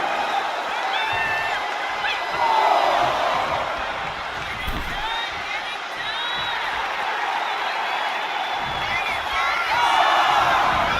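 Wrestling arena crowd in the video game WWE 2K25, a constant roar with scattered cheers and whoops rising and falling, commentary-style talk running over it.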